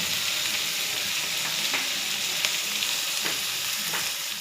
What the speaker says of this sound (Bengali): একটু পেঁয়াজটা ভাজা ভাজা হোক।